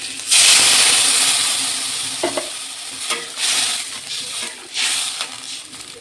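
Water is poured into fried potatoes in a hot wok, setting off a loud burst of hissing sizzle that slowly fades, with stirring scrapes and renewed sizzling surges after it.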